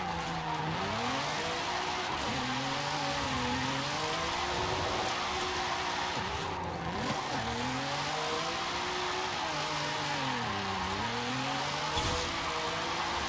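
A Nissan Z Nismo drifting in fifth gear in Forza Horizon 5, the engine note swooping up and down in repeated waves as the car slides, with steady tire noise underneath and no talking.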